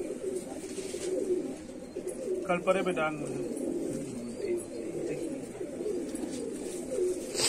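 A twelve-year-old domestic pigeon coos softly in short repeated phrases, partly masked by someone talking nearby.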